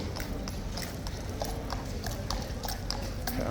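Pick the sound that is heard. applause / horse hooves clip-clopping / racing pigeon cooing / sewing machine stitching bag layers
horse hooves clip-clopping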